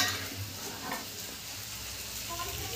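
Masala for butter chicken fries in a pan, a steady soft sizzle with light stirring scrapes; a voice is faintly present under it.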